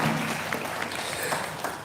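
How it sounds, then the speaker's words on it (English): Audience applause for a university Vice Chancellor at a formal event at Baze University, Abuja: steady, dense clapping from a crowd, moderately loud and sustained throughout without a break. "Please, another round of applause for Madam Vice Chancellor."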